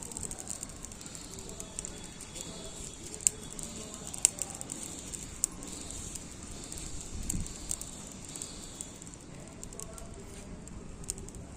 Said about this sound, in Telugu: చూడండి ఎంత మంచిగా వస్తుంది ఇప్పుడు ఫైర్